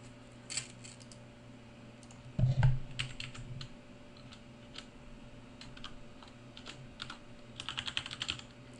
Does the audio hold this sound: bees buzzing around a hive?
no